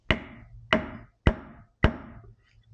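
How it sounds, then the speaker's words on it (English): Four sharp hammer strikes on a Kawasaki Concours 1000 carburetor drain tube land at a steady pace, each a loud metallic crack with a short ringing decay, followed by quiet. "I've got a little bit more I can hammer down in there"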